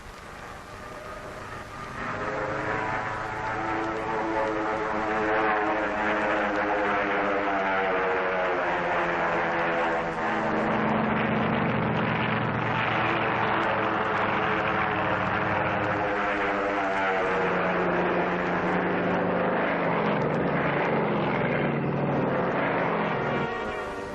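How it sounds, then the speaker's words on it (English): A propeller drone aircraft drones steadily during the 1946 Operation Crossroads atomic bomb tests, a loud continuous engine roar that swells early and holds for the whole stretch. "the drone aircraft are launched and temporarily guided from the carrier"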